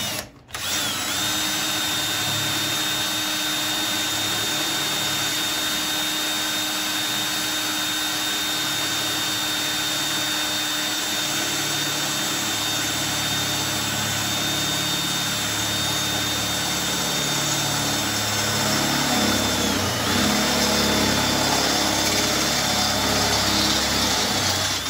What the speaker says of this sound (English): Go ahead and keep drilling this one.